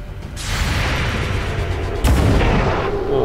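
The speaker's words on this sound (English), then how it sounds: "Looks like Sonic got us a shot." Gunfire in XCOM 2 with the Long War mod: one loud, sharp shot lands about two-thirds through, over a steady rumbling wash of in-game noise.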